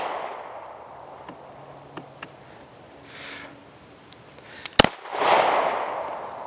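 Gunshots at a family shooting range, fired by a first-time shooter: a few faint sharp reports early on, then one loud close crack near the end followed by a swelling burst of noise.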